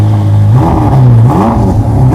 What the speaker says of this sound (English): how loud is this engine in stock form?